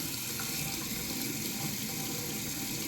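Water from a hose flushing out a GE Opal nugget ice machine during a deep clean, a steady close hiss of running water bubbling into the tank, with no talking.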